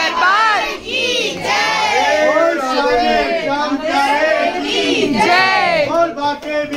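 A crowd gathers for a family naming ceremony at a home function, a dense, loud wash of overlapping voices, chatter and children shouting and cheering, close and continuous.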